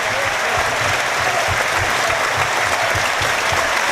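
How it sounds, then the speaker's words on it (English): York City supporters clap steadily for their players at an evening football match against Carlisle United, a dense, continuous wash of applause from a large crowd filling the stadium with no break. "these York City supporters applauding all their players tonight"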